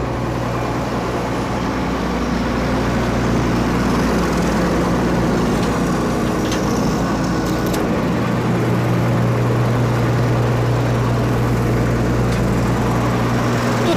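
An AgroWarm grain dryer runs while its auger keeps corn circulating, a loud, steady mechanical drone and rumble close by that holds unbroken throughout, with no voices.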